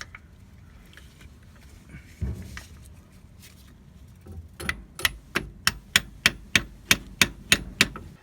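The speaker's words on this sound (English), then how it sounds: "I'm gonna use my socket to tap it in." A socket tapping a shift shaft seal into a Honda/Acura B-series transmission: about a dozen sharp, evenly spaced metallic knocks, close and clear, after a stretch of quieter handling noise.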